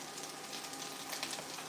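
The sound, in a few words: onions sauteing in a pan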